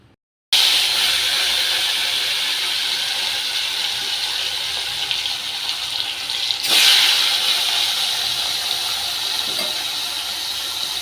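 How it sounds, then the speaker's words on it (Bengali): A steady, loud sizzling hiss of fish frying in hot oil with turmeric fills the whole stretch, with a brief sharper crackle partway through. "দেখো তেল গরম হয়ে গেছে আর এর মধ্যে দিয়ে দিচ্ছি একটুখানি হলুদ"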